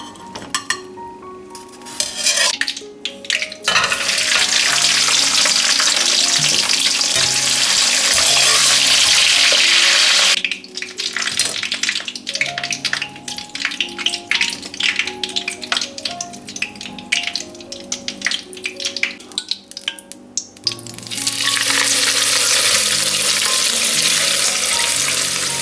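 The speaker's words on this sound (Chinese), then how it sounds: "咱们在家里呢就用这种热油冲一下的方法" Hot oil poured over blanched squid rolls in a home kitchen, setting off a loud, steady sizzle that surges, drops back with pan and utensil clatter around the middle, then swells again near the end.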